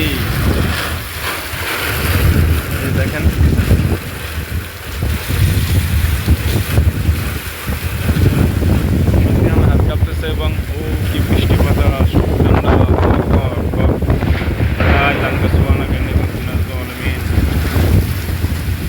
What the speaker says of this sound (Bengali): কি বৃষ্টি দেখছেন গাড়িতে কি জোরে জোরে পানি আসতেছে দেখছেন